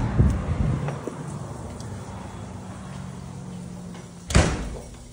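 A house front door clunks as it is handled, a soft knock at the start, a quiet stretch, then a sharp louder thud near the end, heard close indoors.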